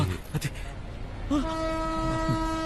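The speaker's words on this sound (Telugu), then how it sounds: "ట్రైన్ వచ్చేసింది" A train horn blares in one long, steady tone, following a short stretch of voices and rumbling rail noise.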